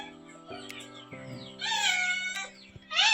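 Cats meowing near fish in a rainy Konkan village, several drawn-out meows close by, the loudest coming in the second half, with faint background sounds in between.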